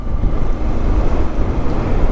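Strong wind roars steadily against the microphone outdoors in Katy, Texas, in the aftermath of Hurricane Beryl, a continuous low rumbling buffet with no pauses.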